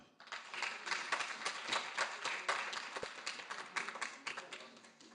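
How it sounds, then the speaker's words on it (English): Audience applause welcoming the Executive Director of ASEPA at an International Women's Day event: steady, dense clapping from a crowd, moderately faint and sustained throughout without a break. "Ladies and gentlemen, with a big round of applause, let's welcome Executive Director for ASEPA, Dr. Rashid Draman."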